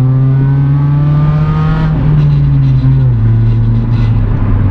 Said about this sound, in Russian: Звук двигателя такой прям.